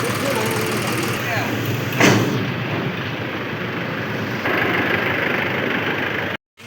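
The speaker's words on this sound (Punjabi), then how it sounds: "ਹੁਣ ਆਪਾਂ ਟਰੈਕਟਰ ਲਾਉਣ ਲੱਗੇ ਬੈਕ ਤੇ" A tractor engine idles with a steady, loud, low rumble, with one sharp bang partway through before it cuts off abruptly near the end.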